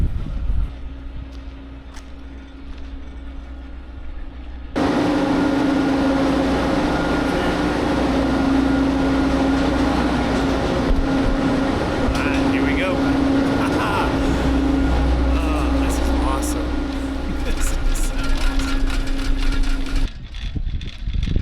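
Magic Mile ski lift gondola ride ascending on Mount Hood near Timberline Lodge, giving a steady mechanical hum and low rumble with rattling and wind, loud throughout, with voices talking over it.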